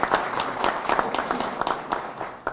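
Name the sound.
audience applause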